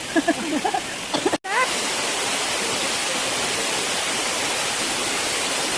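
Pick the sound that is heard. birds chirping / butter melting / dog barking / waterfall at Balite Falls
waterfall at Balite Falls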